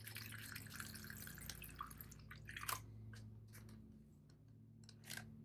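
Windex pours into a small container to soak a Rapidograph technical pen, a soft trickling stream over a steady low hum, then a few sharp drips and clicks, close and quiet.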